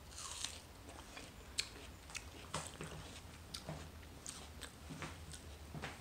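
Chewing and biting into overripe watermelon, with soft wet crunches and smacking bites repeating close up, fairly quiet and without talk.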